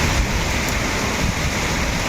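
Summer rain falls across parts of Tamil Nadu's Krishnagiri, Dharmapuri and Vellore districts, making a dense, steady, loud hiss of downpour with no breaks.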